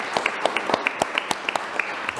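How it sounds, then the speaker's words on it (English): Sparse, distinct handclaps from a small audience at a school committee meeting, a thin irregular patter of individual claps lasting about two seconds. "So let's give a big round of applause."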